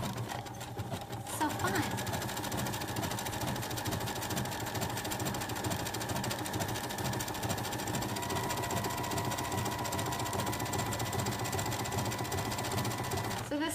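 Sewing machine running a mock cover stitch along knit joggers, a sustained close rhythmic whir that starts after a brief pause and continues steadily, with someone speaking briefly at the start.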